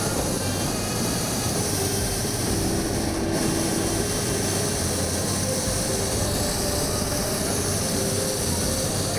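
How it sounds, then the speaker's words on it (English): A steady, loud hot air balloon burner roar drones on without a break, with a dense rumble throughout and no voices. "and you hear the engines there"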